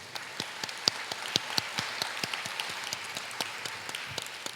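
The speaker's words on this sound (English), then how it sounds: "Let's give her one more round of applause" Applause from an audience at an anniversary gala in St. Louis, a moderate scattered patter of individual claps with uneven sharp peaks, fairly faint and heard without speech.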